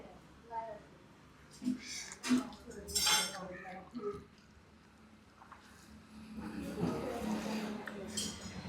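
At a Kerala street-food eatery, a metal spoon clinks a few times as it is set down on a plate, close by, among people talking.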